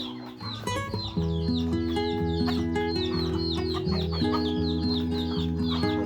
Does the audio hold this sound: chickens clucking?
yes